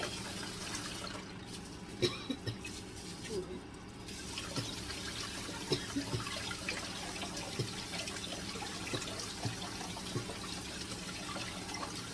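Chilies are washed under running tap water, a steady trickle and splash in a sink with occasional louder drips and handling clunks, fairly faint throughout.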